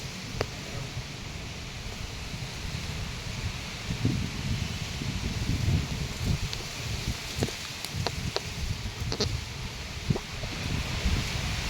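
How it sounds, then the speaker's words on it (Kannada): Wind rustles through leaves in a steady broadband wash, with a few faint clicks and ticks scattered on top. "ಗಾಳಿ ನೋಡ್ರಿ, ಗಾಳಿ"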